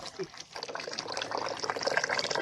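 Wheat dough is kneaded and rinsed by hand in a bowl of water to wash out the starch, giving a steady, close wet sloshing and splashing at moderate volume.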